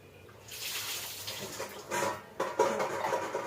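Water splashes and sloshes close by in a few bursts as tamarind is rinsed and rubbed by hand in a bowl.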